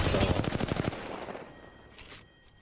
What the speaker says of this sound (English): shooting into the side of the crate